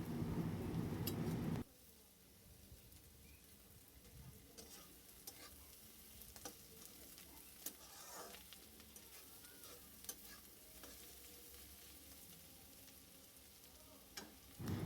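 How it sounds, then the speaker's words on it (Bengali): Food frying in a pan for fried rice, a soft continuous sizzle with scattered scraping and clinking from stirring throughout, fairly quiet, with a louder burst of sizzling at the very start and end. "তো এরকম করে মিনিমাম 10 মিনিট ভেজে নিতে হবে, যতক্ষণ না পর্যন্ত এগুলো হালকা লাল হয়ে যায়।"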